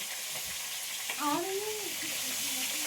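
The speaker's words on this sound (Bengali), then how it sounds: "আর এই মুড়ো কটা ভাজবো তাহলেই হবে" Fish heads frying in oil on a clay stove, a soft steady sizzle with a faint voice speaking over it.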